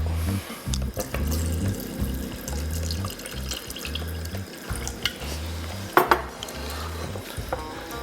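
Stock for crawfish étouffée is poured into a pan, a close splashing and trickling flow with light clinks of metal cookware throughout, moderately quiet and without talk.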